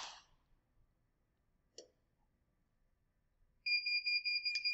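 A heat press timer, used while making a custom mask, rings with a steady repeating electronic beep in the final second, loud against a quiet room after a couple of faint clicks.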